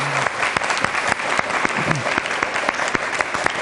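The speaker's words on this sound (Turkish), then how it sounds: "rica ediyorum kocaman bir alkış daha" Studio audience applause on a Turkish word-and-numbers quiz show, a steady patter of many hands clapping close and fairly loud, with sharper individual claps standing out and a brief voice near the start.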